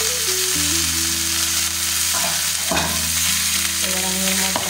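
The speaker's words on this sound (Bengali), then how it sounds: "পেঁয়াজগুলো ভাজা হয়ে গেছে, এবার পেঁয়াজের মধ্যে আমি কেটে রাখা আলুগুলো দিয়ে দেবো।" Cut potatoes go into a pan of fried onions for Bengali aloo posto, making a loud, close sizzle with stirring scrapes and a few clatters over a low steady hum, and no voices.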